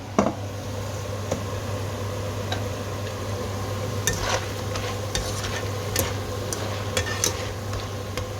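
Murukku dough deep-frying in fresh oil gives a steady close sizzle and bubbling, with scattered sharp ticks and clinks from stirring or utensils and no voices.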